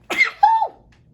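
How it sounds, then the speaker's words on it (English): One close sneeze: a breathy burst followed by a short voiced, tonal tail, loud and alone against a quiet room. "I got a sneeze coming."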